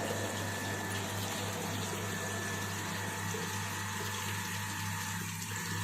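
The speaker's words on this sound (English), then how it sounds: "the water gets flowed through the V notch and it gets filled at this liquid, this bench" Water flowing through a V-notch weir on a laboratory hydraulics bench, a steady continuous rush with a low pump-like hum underneath, close and unchanging throughout with no talk.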